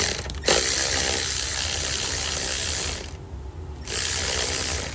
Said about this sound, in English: You also want to remove this 12mm bolt down here using an extension.